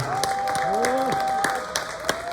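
Spectators at a Jinju bullfighting match between the bulls Jangsu and Daeho clap briefly for the referees and handlers, while a voice carries over the applause.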